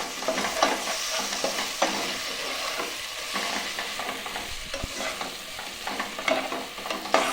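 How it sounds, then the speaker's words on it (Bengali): Ground spices, coriander and cumin, are stir-fried in a pan for a mutton and potato curry, a continuous close sizzle broken by frequent scraping stirs of a spatula, with no talk. "এবার এই সমস্ত মশলাকে ভালো করে আমি কষিয়ে নেব"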